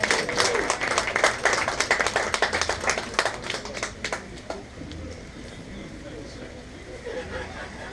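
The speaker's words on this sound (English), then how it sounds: "Please give her a big round of applause." Wedding guests clap for the bride Evelyn, first in a lively, dense round of applause for about four seconds before it thins out into murmuring crowd chatter and room noise.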